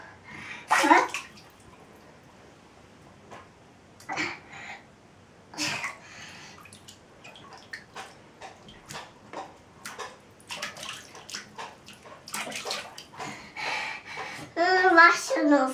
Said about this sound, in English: She's washing the foot.